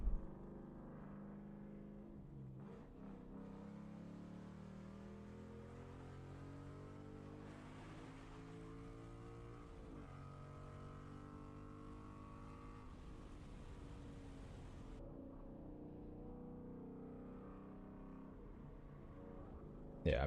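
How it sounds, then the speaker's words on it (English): Exhaust note of a 2015-2023 Ford Mustang S550: a steady, fairly quiet engine drone with layered tones that shift and rise in pitch over about twenty seconds, heard alone without voices. "we're gonna listen to some exhaust notes"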